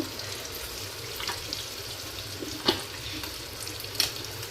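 Fish pieces frying in oil on a stove, a steady close sizzle with a couple of sharp clinks of a utensil against the pan.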